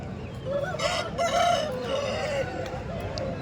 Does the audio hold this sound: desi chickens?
yes